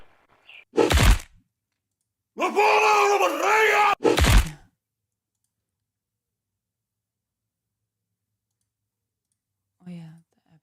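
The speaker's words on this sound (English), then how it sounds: "Oh yeah, the epic war combat scream." A loud, strained scream in the style of an epic war combat cry rings out alone, set between sharp clicks and thuds, with a faint voice at the end.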